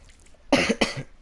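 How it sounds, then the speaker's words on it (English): Two sharp, raspy coughs in quick succession, close and fairly loud, with a short pause between them and no talking. "That's a cough."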